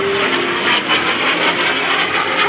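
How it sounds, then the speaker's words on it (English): Small aerobatic airplane flying a Cuban Eight at a West Virginia airshow, its engine a loud steady drone with slight swells in pitch and level, no talk over it. "A little airplane doing really big maneuvers."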